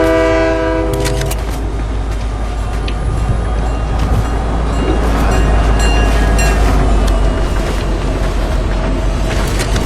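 In a video game, a train passes close by, starting with a brief horn blast and continuing as a loud, steady rumble with rattling wheel clatter throughout.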